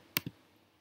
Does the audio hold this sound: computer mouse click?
yes